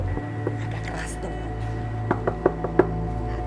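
Knocking on a house door, a short run of four or five sharp raps, somewhat loud, landing in the second half over a steady background hum while people talk.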